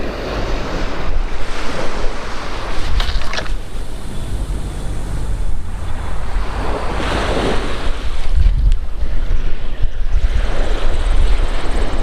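Wind and surf on the shore at Penarth beach near Cardiff, gusts buffeting the microphone over a continuous roar of waves that swells and eases, loud and close.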